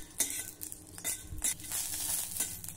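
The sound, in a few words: green chillies roasting in oil in a pan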